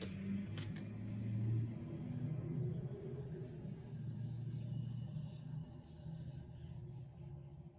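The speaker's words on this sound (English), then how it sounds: "that truck is so loud" A loud truck rumbles past outside, a continuous low heavy roar with a rising engine whine that holds steady for several seconds, heard close without talk over it.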